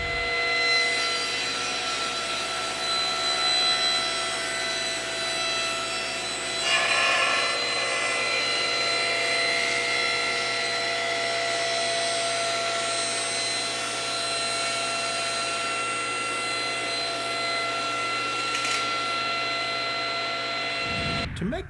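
A table saw cuts a wooden chair arm board, the blade running with a steady, loud whine and a brief rise in pitch as the wood passes through, then spinning down near the end.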